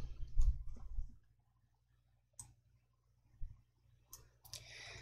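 A computer mouse clicking the OK button in a spreadsheet dialog, a few soft, sparse clicks spread apart in a quiet room.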